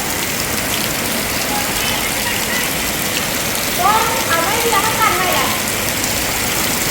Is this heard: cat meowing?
no